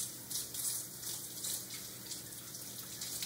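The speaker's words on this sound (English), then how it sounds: "Turn your water on," A kitchen tap runs steadily for hand washing, a continuous close hiss of flowing water with no voices.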